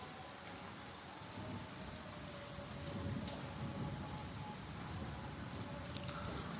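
Rain falls continuously on surfaces as an even, dense patter with no speech, steady throughout and slightly heavier in the second half.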